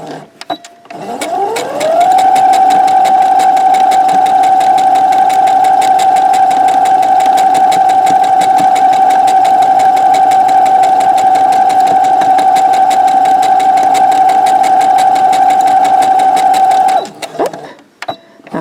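Close, loud electric sewing machine stitching forward and in reverse on a fabric pouch, its motor winding up into a steady whine that holds for about fifteen seconds before stopping.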